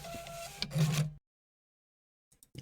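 An office printer in the Office Simulator video game runs for about a second, a short mechanical whirring feed, followed by silence and faint clicks.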